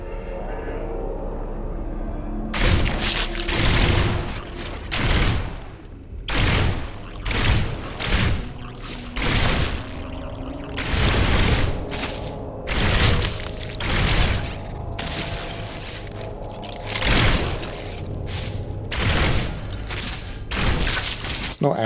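A pulse splitter weapon fires repeatedly in No Man's Sky, loud crackling bursts coming in irregular volleys over a steady low rumble of the game.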